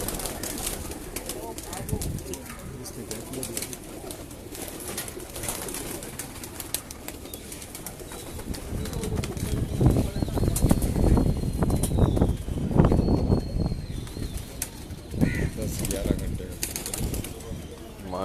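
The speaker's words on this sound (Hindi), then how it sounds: "ये एक और इनकी परवाज़ी कबूतरी" Pigeons coo and flutter around a rooftop loft during pigeon flying, with wingbeats and bird calls rising through a busy, noisy outdoor mix while people talk nearby.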